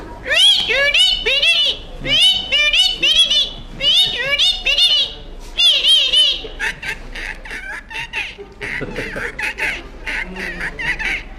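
A person imitates a parrot with shrill, squawky chirps and warbling calls, close and loud, delivered in quick bursts over several seconds.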